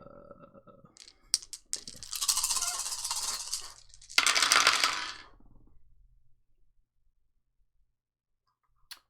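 Many small dice are rolled during a tabletop game session, a burst of close clattering and rattling that tumbles for a few seconds, stops briefly, then rattles again before settling into quiet.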